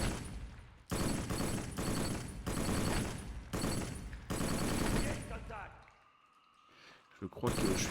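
Gunfire in the PS2 video game Black, dense loud bursts of rapid shots in repeated volleys, then a short lull before firing resumes.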